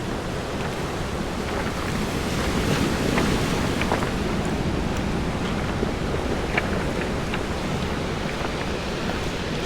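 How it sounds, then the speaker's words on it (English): Ocean surf rolls steadily onto Pololū black sand beach on Hawaii, a continuous broad roar of waves mixed with heavy wind buffeting the microphone, with no talk. "I just want to be close to the ocean."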